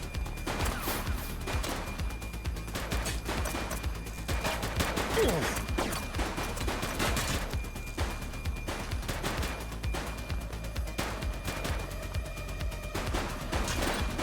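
Gunfire in the PC police video game The Precinct: dense bursts of rapid shots crackle almost nonstop for the whole stretch, at an even, moderate level.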